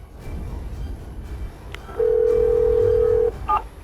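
A telephone rings out with one long steady tone lasting over a second, then two short tones, as an ambulance is called. Quiet room noise sits underneath.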